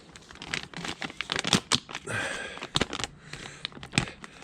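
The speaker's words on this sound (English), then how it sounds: "this little plastic bag is just kicking my butt" A small plastic bag is handled and crinkled up close, with bursts of crackling rustle and brief pauses in between, and no talking.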